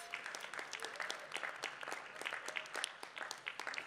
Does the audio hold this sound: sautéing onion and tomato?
no